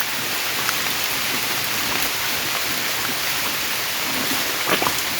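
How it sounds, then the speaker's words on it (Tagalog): Steady rain pours down, a dense even hiss of drops on surfaces with occasional louder splashes, no voices. "Inabot na po kami ng ulan."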